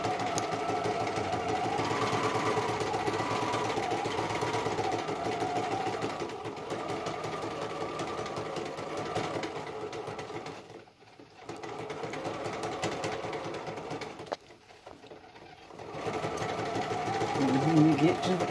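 A sewing machine top stitching bag straps, a steady close mechanical whirr running continuously with two brief pauses, while a person talks over it.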